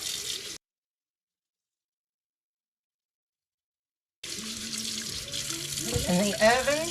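Tap water running in a sink while potatoes are washed by hand, a brief burst, a gap of silence, then a steady rush of water with light splashing and handling near the end.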